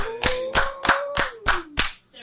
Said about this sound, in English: let's clap it up for the birthday girl